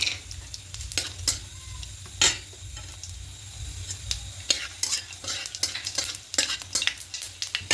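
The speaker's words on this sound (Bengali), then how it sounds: "এই তেলের মধ্যে গোটা গরম মশলা ফোড়ন দেবো লবঙ্গ এলাচ আর জিরে" Whole cloves, cardamom and cumin crackle in hot oil for a spicy mushroom curry. A continuous close sizzle runs under repeated scraping stirs of a spoon against the pan, and there is no talking.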